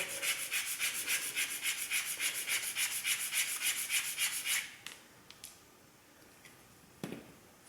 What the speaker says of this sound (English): hold the sandpaper and rub the plank on the sandpaper itself